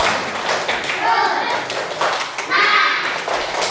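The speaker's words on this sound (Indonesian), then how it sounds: "Tepuk semangat." Children in a fifth-grade classroom lesson perform a rhythmic spirit clap, patterned bursts of claps and taps mixed with young voices chanting along, close and fairly loud.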